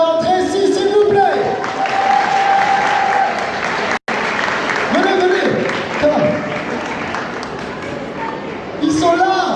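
Loud, sustained applause from a large audience welcoming US guest actors at a game-show conference in Montpellier, a dense roar of clapping with cheers, whistles and an announcer's voice over it, briefly cutting out midway.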